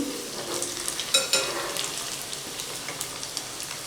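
Leftover rice balls fry in hot oil, a steady crackling sizzle with gentle scraping and clinking as they are slowly stirred around the pan, close up with no speech.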